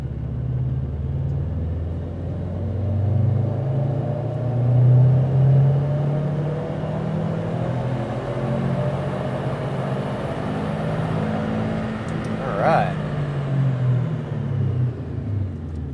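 A tuned car engine on a dyno pull, revving up under load in a steady loud drone that rises and holds, with a deep rumble throughout and no talking.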